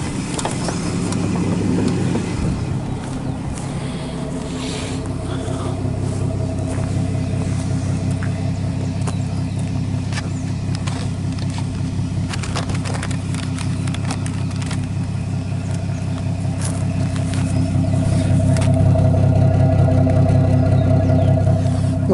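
A 1974 Dodge Coronado, an Argentine Mopar, idling with a steady low rumble that stays close and even throughout, with no voices over it.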